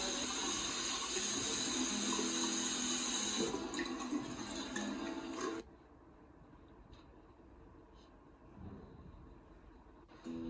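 Tap water runs loudly into a sink for hands being washed before a meal, then cuts off, leaving quieter room sound with a few faint knocks and splashes.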